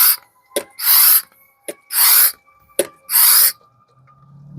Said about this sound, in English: So you just pump it several times.